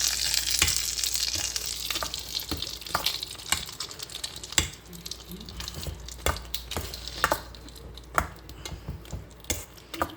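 Buttermilk rice being stirred together with a freshly poured tempering, giving soft, irregular clicks and scrapes of a spoon against the vessel alongside a light sizzle, close and fairly quiet, with no voices.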